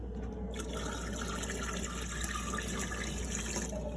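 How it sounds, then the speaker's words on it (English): Water pours steadily into a pressure canner loaded with 12 quart jars of meat, a continuous close rushing and splashing flow that stops briefly at the start and fades near the end. "I'm gonna put just a little bit more water."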